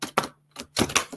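Cards printed on photo paper are shuffled by hand, giving several quick, close, crisp snapping flutters separated by short silences.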